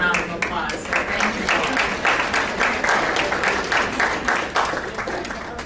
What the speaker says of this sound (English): they really do deserve a wonderful round of applause